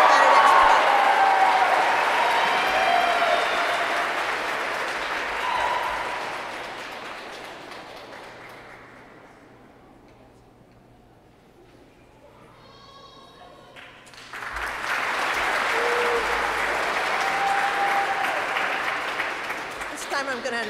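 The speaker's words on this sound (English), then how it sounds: "So everybody's clapping." Audience applause at the Robert Treat Academy commencement ceremony: a sustained wash of clapping that fades to near quiet midway, then swells back up loudly for several more seconds.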